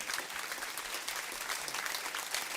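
A high school alumni audience applauds a speaker at a careers mentorship event, a dense, steady wash of many hands clapping at once, heard from a distance and fairly quiet, with no talk over it.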